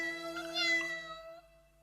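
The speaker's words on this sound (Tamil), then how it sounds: "என்னப்பா அது இத்தனை பூனைங்களா?" A single drawn-out cartoon cat meow, clear and tonal, rising then fading over about a second and a half, with no talk.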